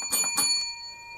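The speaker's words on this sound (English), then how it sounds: "Also, there's a bell." A small table bell struck in a quiet tomb, a couple of bright metallic dings followed by a long, clear ringing tone that slowly decays.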